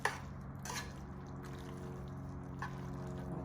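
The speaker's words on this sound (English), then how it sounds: "I'm gonna add a little bit more water because I want it to be nice and juicy." Water is poured into a truffle tagliatelle sauce simmering in a pan, a soft, steady liquid wash over a low kitchen hum, with no one talking.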